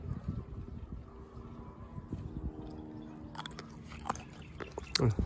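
Crunchy mulberries are bitten and chewed close to the microphone, giving a run of soft crunches and wet squishing, with a few sharper bites near the end.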